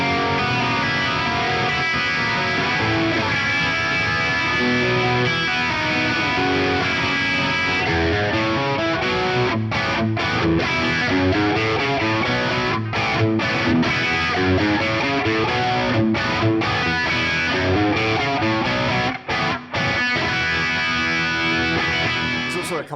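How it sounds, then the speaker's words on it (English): A sustained, distorted electric guitar sound rings out through a NUX MG-300 MKII amp modeler, strummed chords continuing steadily throughout. "And of course I can play this chord."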